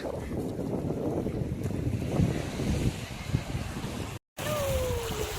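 Wind and sea at a seashore make a steady rushing roar with buffeting gusts against the microphone, briefly cutting out before resuming, while faint voices sound in the background.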